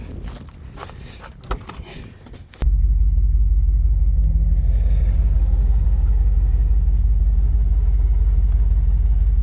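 Jeep hauled up a hill by a 12000lb Walmart Hyper Tough winch: a sudden steady loud rumble of motor drive that starts a few seconds in and holds constant, after scattered clunks and footsteps.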